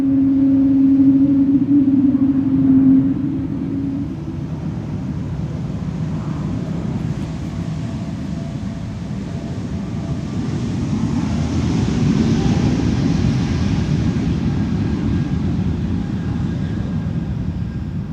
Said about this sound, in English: Oh, no, it aborts. It is rejecting the takeoff.